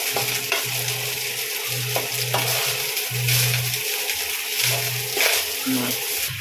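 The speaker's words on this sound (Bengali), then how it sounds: "এবার এর মধ্যে আমি রাইসটাকে অ্যাড করছি। নাড়িয়ে নিচ্ছি।" Rice is stirred into a pan for prawn fried rice, with a steady background sizzle and scraping, under a low humming tone and bursts of nearby talk.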